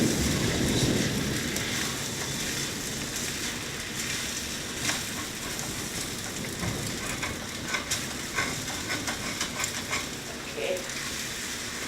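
Fried rice with meat sizzles steadily in a hot pan while being stirred and mixed, a dense, continuous hiss with occasional scraping taps, and a person speaks briefly over it.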